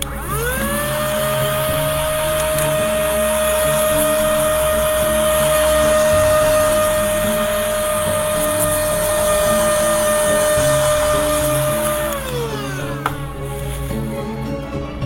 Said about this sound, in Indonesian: Dengan vacuum portable.